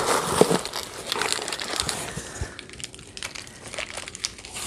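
Mail package paper being handled up close, with steady crinkling and rustling across the whole stretch, loud at first and then softer, with no talking.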